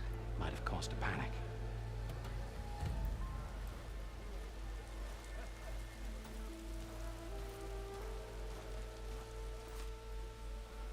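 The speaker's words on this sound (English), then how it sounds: "Ah, we got rain." Steady rain falls across the world of Horizon Forbidden West, a soft continuous hiss with scattered droplet patter beneath game music and ambient tones, while a voice speaks briefly near the start.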